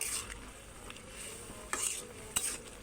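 Lentil dal with taro stolons is stirred in a pot: a soft, steady scraping texture with a few sharper clinks and knocks of the spoon near the end, close and fairly quiet, with no talking.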